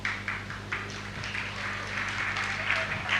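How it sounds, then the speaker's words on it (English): Audience clapping for a poet from Togo at a live African poetry performance, a moderate patter of applause in a hall that runs throughout, with a voice heard over it. "please, keep clapping until he gets here"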